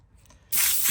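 An airbrush blasting out the last of its paint before a bottle change, starting abruptly after a moment of quiet as a loud, steady hiss of spray close by.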